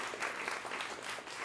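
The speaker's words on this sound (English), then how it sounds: "let's give him a huge round of applause" A comedy club audience at a live show in Hollywood gives a short burst of applause, fairly faint and distant, with steady clapping and slight crowd murmur.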